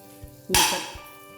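Turmeric powder and ground spices hit hot oil already crackling with mustard seeds and asafoetida, giving a sudden loud sizzle that fades over about a second, close up.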